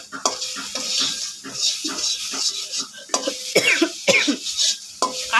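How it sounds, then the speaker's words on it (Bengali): A cough breaks out while noodles are cooked and stirred in oil in a pan, with scraping and clinking of the utensil against the pan throughout and short bursts of coughing close by. "কাশি চলে আসছে"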